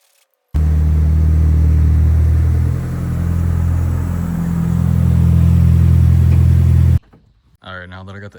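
A Nissan Silvia S15 rolls to a stop close by, its engine a loud, steady low rumble with a slight dip partway before cutting off abruptly, followed by brief faint sounds.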